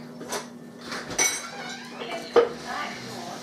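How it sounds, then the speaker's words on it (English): A pressure cooker lid lifted off and set down while making macaroni and cheese, giving a few loud metallic clanks and clinks against a steady background hum with no talking. "I'm going to get rid of this lid for the time being"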